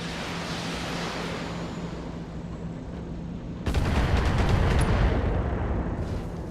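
Weapon fire striking a mech in the BattleTech video game: a steady low rumble of battle ambience, then a sudden loud burst of impacts and explosive crackle around the midpoint that carries on to the end, with no talk.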